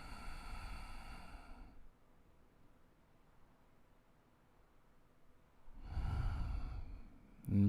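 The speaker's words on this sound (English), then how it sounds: "Keep the lips sealed. Breathe through the nose." Slow, steady breaths drawn and released through the nose with lips sealed during a guided breathing exercise, a soft airy exhale at the start, a long quiet pause, then another close, breathy nasal breath.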